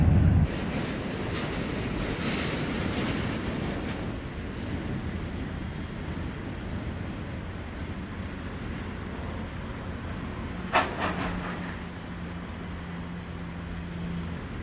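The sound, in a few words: Pennsylvania Railroad local freight train running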